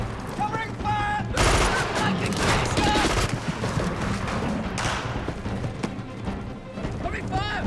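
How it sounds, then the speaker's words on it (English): Staged gunfire in a film battle scene, a fusillade of dense overlapping shots and crashes running loud throughout, with shouted voices over the top. "Covering fire!"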